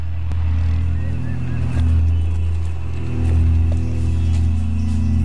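Hovercraft engines run as a loud, steady low drone with heavy rumbling hum throughout, sweeping slightly in intensity, on a raid approaching cocaine-processing laboratories.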